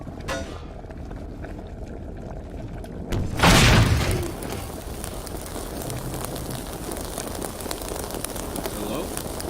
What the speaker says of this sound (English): there's a lot of explosions!